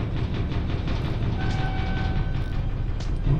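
A train rumbles past in a horror video game with a loud, steady rolling roar and rhythmic clickety-clack, a brief tonal squeal or horn-like note in the middle.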